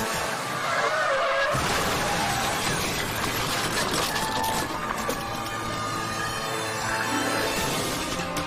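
A car traveling at 70 mph loses control and skids, tires squealing loudly, then slams into a stopped sedan at a roadside traffic stop, a sustained harsh screech and crash with no talk.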